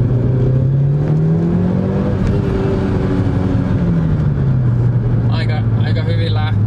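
A Mitsubishi Lancer Evolution IX Wagon accelerates in rush-hour traffic, its engine note climbing through the gears with a steady whirring drone. Someone talks over the engine.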